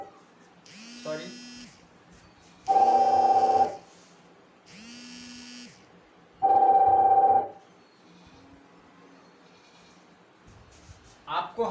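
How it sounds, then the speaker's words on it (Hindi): A mobile phone rings with an incoming call indoors during a chemistry lesson: repeated buzzy electronic ring bursts, some carrying a clear tonal beep, spaced about a second apart with quiet gaps, followed by a brief voice at the end. "इस मोबाइल में थोड़ा सा फोन आ गया था"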